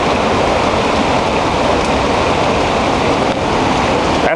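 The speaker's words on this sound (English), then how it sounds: "Come on, wind. Show me something." Hurricane Gustav's wind roars in Alexandria, Louisiana, a loud, dense, unbroken rush of gusting air close to the listener, with no voices over it.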